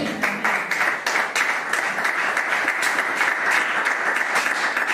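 A church congregation applauds and cheers the name of Jesus, dense clapping with rhythmic surges filling the room, loud and sustained without voices over it.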